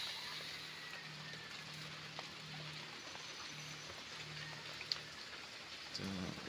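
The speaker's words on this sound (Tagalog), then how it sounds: "Ulan talaga dito sa amin guys." Steady rain patters down on a morning in the Philippines, a soft continuous hiss with scattered drips and faint low hum, and a couple of small clicks near the end.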